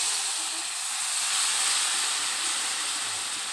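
Sugar syrup pours into roasted semolina halwa in a hot pan and sizzles with a loud, steady steam hiss that holds evenly throughout, with no voices.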